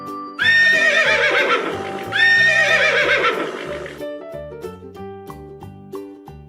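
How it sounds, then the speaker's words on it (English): A horse whinnies twice in loud, shrill, quavering neighs over cheerful background music from a children's domestic-animal sounds game, with the music continuing alone afterward. "Horse."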